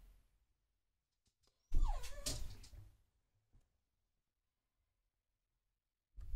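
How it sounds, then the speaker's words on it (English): A dog whimpers indoors with a single short, rising and falling cry lasting about a second, surrounded by near silence and a few faint knocks. "my dog is crying right now"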